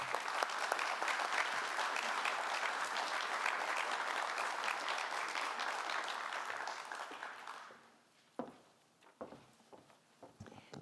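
A hall audience at a university Gold Star ceremony applauds to welcome President Wendy Wintersteen, steady full clapping for about eight seconds before it fades to a few scattered claps and quiet room noise.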